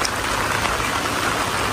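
Rain falls in Davao as a dense, steady hiss of drops pattering on surfaces, constant and fairly loud with no voices.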